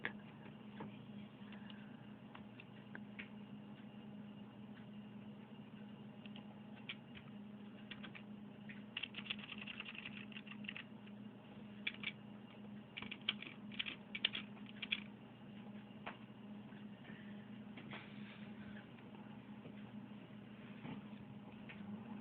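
A computer keyboard is typed on as text is entered, giving faint, sporadic clusters of light key clicks over a low steady hum, densest in the middle stretch.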